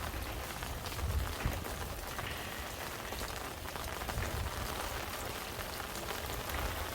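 Steady rain patters on a garden flower bed with lettuce, cabbage and spinach plantings, a dense, even hiss of drops with occasional heavier splashes, continuous and close.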